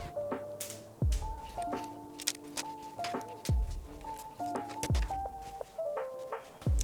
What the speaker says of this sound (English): So this is the first time that I actually use one of these stud shooters.